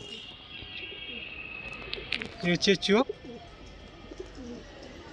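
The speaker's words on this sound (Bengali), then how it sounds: "নর আর এটা মাদা পায়রাই" Lal Jira pigeons, a male and female pair, coo softly in the background while someone speaks close by over them, his voice dominating the middle of the clip.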